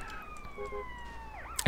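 Police siren wailing in GTA San Andreas, a steady descending tone through most of the clip that bends into a rising whoop near the end, moderately loud with a brief sharp noise at the close.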